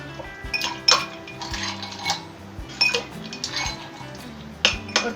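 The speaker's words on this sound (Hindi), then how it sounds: "ice cubes," Ice cubes drop into glasses of lemon drink, a series of sharp clinks and rattles up close, in irregular bursts with short pauses between.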